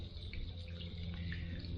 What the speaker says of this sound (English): now you can see there's leaking water coming from the house